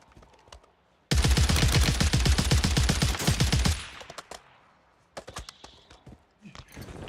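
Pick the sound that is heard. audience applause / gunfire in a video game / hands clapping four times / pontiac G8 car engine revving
gunfire in a video game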